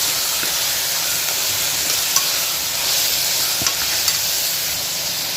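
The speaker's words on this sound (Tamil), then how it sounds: "மட்டனை சேர்த்து வச்சு இதையும் சேர்த்து நல்லா கலக்கி விட்டுக்கலாம்" Mutton frying and being stirred in a pan for a rainy-day lunch, a steady broadband sizzle throughout with a few faint scrapes and clicks of the spoon against the pan.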